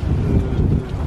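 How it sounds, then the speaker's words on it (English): Heavy wind buffets the microphone, a continuous low rumbling roar with no pauses. "Let's see if I can block any of this wind."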